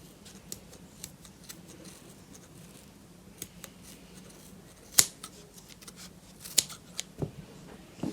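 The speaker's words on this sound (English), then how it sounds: "So you can use scissors or blade, anything you have to cut it." Scissors cut crochet yarn with a handful of sharp, close snips and clicks spaced irregularly over a quiet background, a couple of louder clacks standing out, with no talk.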